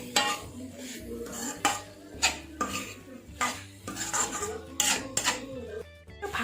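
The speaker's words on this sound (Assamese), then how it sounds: "আৰু এতিয়া এইখিনি ভালদৰে লৰাম।" Fried potatoes, soybeans and eggs are stirred together in a pan with a spatula, giving repeated scraping and clanking strokes over a faint sizzle, close up.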